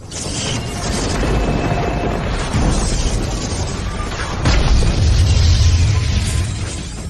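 Electromagnetic cannon blast in an animated xuanhuan fight: a sustained, loud roaring burst of boom and crackle that swells again midway and holds to the end, with no voices.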